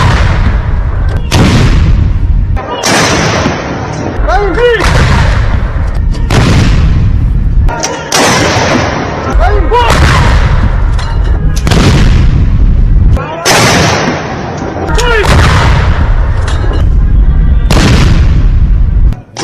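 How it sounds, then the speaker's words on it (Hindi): A 21-gun artillery salute is rehearsed for the 26 January ceremony, with loud booming cannon shots fired one after another at regular intervals of about two and a half seconds, each blast echoing out. "21 तोपों की सलामी की तैयारी की जा रही है"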